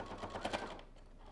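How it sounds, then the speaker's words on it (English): Sewing machine running a short burst of stitches forward and back along bias tape on a fabric face mask, a quiet rapid whir that stops after about half a second. "Now I'm going to do a couple of stitches front and back."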